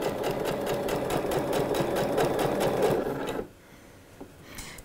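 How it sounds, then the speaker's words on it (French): Sewing machine running steadily and slowly, stitching 1–2 mm from an assembly seam while sewing a pair of shorts; a continuous rhythmic whir lasts about three and a half seconds, then stops, leaving near-silence. "je vais piquer vraiment au plus près de ma couture d'assemblage, 1 ou 2 mm du bord"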